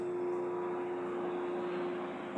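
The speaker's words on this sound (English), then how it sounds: "The airplane is passing." Faint, steady drone of an airplane passing overhead, a distant engine hum with a constant tone holding evenly throughout, no voices.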